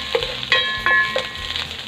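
Ginger and garlic frying in a pan for a spicy coconut-milk yellowfin tuna dish, a steady close sizzle with a few sharp crackles and stirring clinks over about two seconds, no talking.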